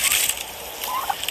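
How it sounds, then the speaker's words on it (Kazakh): Domestic turkeys kept as farmyard poultry give a brief, moderately loud gobbling call. "Индауыл құсталар ма?"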